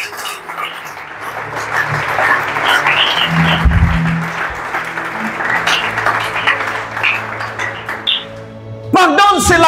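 A church congregation at an evening service applauds to acclaim the Lord, sustained loud clapping with voices and music mixed in.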